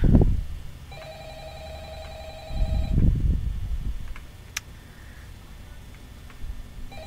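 An old-style phone bell rings in the video game Five Nights at Freddy's, two distinct rings separated by a pause, set over low rumbling ambience with a few faint clicks.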